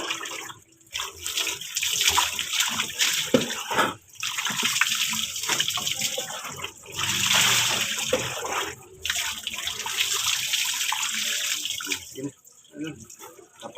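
Water splashes and streams in loud broadband bursts while a dog is being bathed, stopping briefly several times before resuming, with no voices over it.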